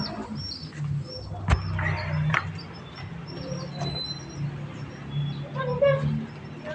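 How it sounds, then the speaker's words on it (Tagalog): New pigeons, a checkered one and a white flight, give scattered chirps and soft coos outdoors over a low background hum, while people talk nearby. "may kalapati tayong bago dito."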